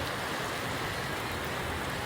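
Steady rain hisses evenly, a dense wash of drops with no voices or other sounds.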